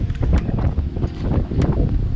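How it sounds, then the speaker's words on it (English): Strong gusty wind buffeting outdoors in a city street near a museum in Liège, a steady roar of wind noise on the microphone with no speech. "Oh my god, it's really windy."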